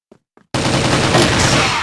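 Sustained rapid automatic gunfire from the online shooter CrossFire, loud and dense, bursting in abruptly after two brief faint blips and continuing without pause.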